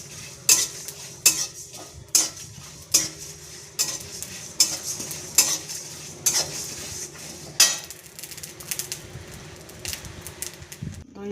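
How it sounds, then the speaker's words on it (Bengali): Whole cumin seeds fry in a pan with coriander and fennel seeds. A spatula scrapes and taps in a steady rhythm over a soft, continuous sizzle, close and fairly loud, with no talking. "এরপর দিয়ে দেবো জিরে, গোটা জিরে দিলাম। সব একসাথে ভেজে নেব।"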